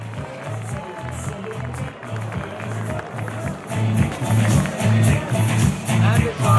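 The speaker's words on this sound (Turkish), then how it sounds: "geliyor alkışlar" An audience at a Turkish ceremony claps and cheers steadily, the applause swelling louder in the second half over a pulsing low musical beat.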